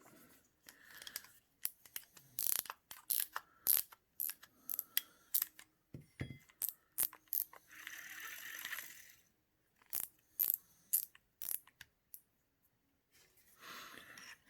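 Mechanical clicks and ratcheting snaps come from working on the handle of a Kastking SpeedDemon Elite fishing reel, in irregular close bursts with short pauses between them.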